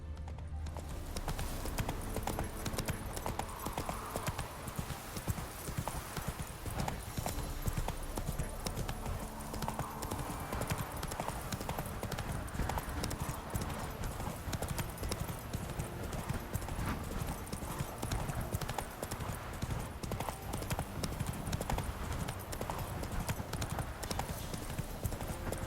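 A horse's hooves clip-clop in a steady, unbroken rhythm along a trail in The Witcher 3: Wild Hunt, close and prominent throughout, with a brief whinny and only light talk.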